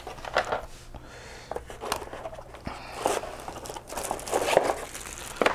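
A ROCCAT Ryos TKL keyboard is lifted out of its protective box packaging, with close crinkling, rustling and scraping of packing material in irregular bursts, no talking.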